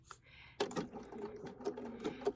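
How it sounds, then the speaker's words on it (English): Sewing machine stitching a foundation paper pieced quilt block, a quick rapid mechanical clatter starting after a short pause and running steadily, close and moderately quiet. "I start stitching at the edge of the block"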